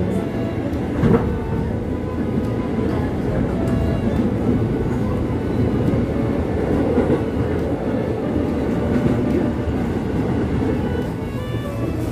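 A local commuter train between Cibitung and Tambun stations, Indonesia, rumbles steadily along the rails with a continuous low roar and faint rattling, heard from inside a carriage.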